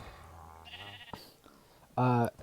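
A sheep mob bleats in the Minecraft video game, one short loud harmonic bleat near the end after softer earlier bleats, over a quiet background with a voice talking.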